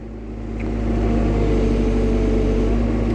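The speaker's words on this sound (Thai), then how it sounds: "เร่งเครื่องหน่อย" Steady engine drone of construction machinery working on a home driveway and parking area rises in loudness over the first second, then holds a constant revving hum with no talk.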